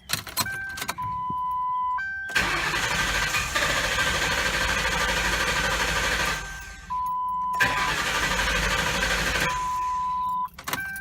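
Ford Crown Victoria engine cranking without catching, out of fuel: a key-on chime, then two long loud starter-whirring spells separated by a pause, each ending without the engine firing.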